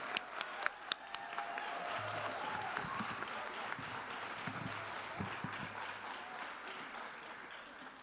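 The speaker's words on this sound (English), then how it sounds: "give our 14 graduate dental hygiene students another warm round of applause to congratulate them on this great accomplishment" Warm applause from an audience for fourteen graduating dental hygiene students at a pinning ceremony, a dense steady clatter of many hands that carries on for the whole stretch at moderate volume.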